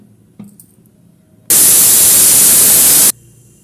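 A pressure cooker's whistle blasts steam in one loud, sustained hiss lasting about a second and a half, breaking sharply out of a quiet kitchen and cutting off just as abruptly.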